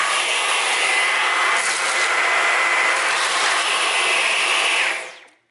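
A Dyson V11 cordless vacuum cleaner runs with a loud, steady, high-pitched whine for about five seconds, then quickly winds down and cuts off.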